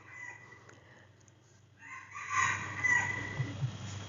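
A rooster crows at a distance, its drawn-out call rising after a quieter opening, fairly faint against a soft background.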